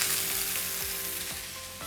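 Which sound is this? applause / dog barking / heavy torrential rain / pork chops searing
pork chops searing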